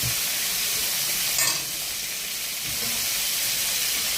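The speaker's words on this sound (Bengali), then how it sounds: "এখন কিছু সময় ভাজা ভাজা হয়ে গেলে হলুদ লবণ দিয়ে দিচ্ছি।" Pointed gourd fries in hot oil with turmeric and salt, a steady, close sizzling hiss that holds evenly throughout, with a brief stir-like scrape near the middle.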